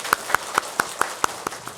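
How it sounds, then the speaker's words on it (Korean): A Buddhist temple congregation at a monk's dharma talk claps together in sharp, even unison beats, about four per second, close and moderately loud. "이 자리에 올 수 있게 만들어준 여러분의 전생을 칭찬하는 의미로 우리 박수 한번 크게 치겠습니다"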